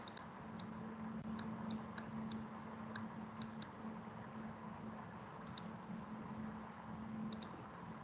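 Mouse buttons clicking in a quiet room while the Control key is held to multi-select, about a dozen crisp, evenly spaced clicks in scattered pairs and singles over a low steady hum, with no voices.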